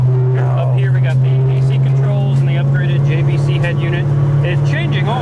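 A red 1972 Pontiac GTO engine cruising in fourth gear at about 2,000 RPM and 40 mph, a steady low drone heard from inside the car beneath someone talking throughout.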